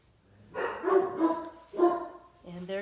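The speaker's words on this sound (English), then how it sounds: "And there goes my hound dog." A hound dog gives three or four drawn-out, baying barks nearby, clear against a quiet kitchen during cranberry juice canning.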